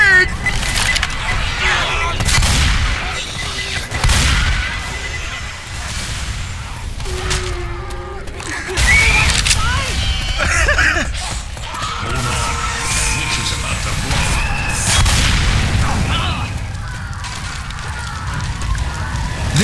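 A grenade explodes amid a chaotic firefight in the video game Left 4 Dead. Loud broadband blasts and rapid gunfire crash repeatedly over voices shouting throughout.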